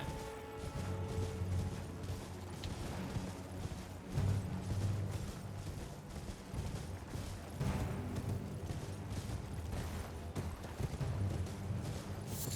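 Horse hooves clip-clop steadily in the video game Elden Ring as a mount travels alongside another rider, with continuous rhythmic footfalls mixed into dense game ambience and no voices.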